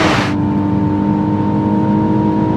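A Mercedes SLK climbs a snowy volcanic mountain road in Tenerife, its engine holding a loud, steady drone and whine under acceleration after a brief burst of wind noise at the start.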